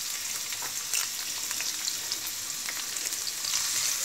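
Chopped onion dropped into hot oil with crackling cumin seeds, a bright continuous sizzle with occasional stirring scrapes, close and fairly loud, no one speaking.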